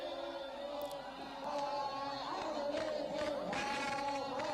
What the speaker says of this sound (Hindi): हजारों लोगों की भीड़ थी।